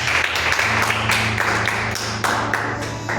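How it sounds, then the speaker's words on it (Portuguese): A church congregation claps together after a prayer during a worship service, a dense, steady wash of applause close by with a low hum underneath and brief sharper bursts throughout. "Dá uma salva de palmas."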